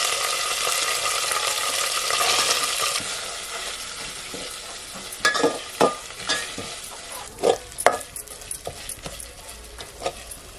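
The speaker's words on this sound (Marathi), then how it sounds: "गोडा मसाला परतून घेतला." Goda masala fries and is stirred in a pan over a wood-fired stove for a chicken curry, giving a steady sizzle with scattered scraping and tapping strokes of a spoon growing louder in the second half, no voices.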